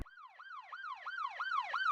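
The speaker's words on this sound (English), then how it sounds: "We got this police siren." A police siren wailing in fast, repeated up-and-down whoops, about six cycles, clear and close with nothing else behind it.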